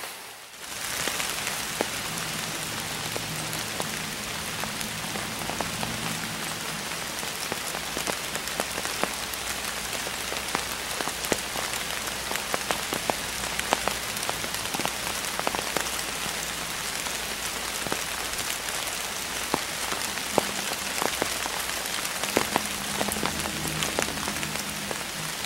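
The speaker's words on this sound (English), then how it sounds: "Rainy, it's wet" Steady rain falls outdoors in the West Virginia woods during late-October archery season, a dense, even patter of drops on surfaces that continues unbroken for the whole stretch with no voices.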